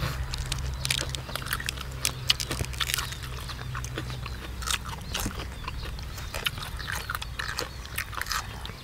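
Crunchy grilled squid tentacles are chewed up close, with crisp irregular crunches and bites over a soft background hum and no talk.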